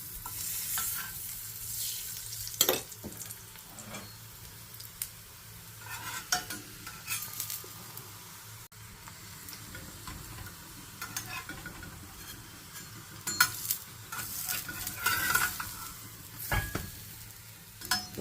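A roti sizzles on a hot tawa with ghee, with soft stirring scrapes and occasional sharp spatula clinks over a steady low frying hiss that stays moderately quiet and close.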